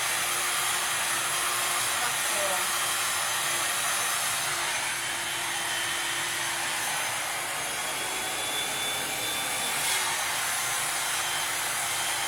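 A hair dryer blowing continuously on long layered hair coated in blow-dry cream, a loud, steady whooshing roar close by that barely shifts over the whole stretch, with no talking.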